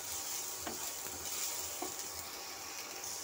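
Ground spices such as turmeric being stirred and fried together in a pan for a small-fish oil curry, a steady faint sizzle with a few soft scraping strokes of the spoon, no voices.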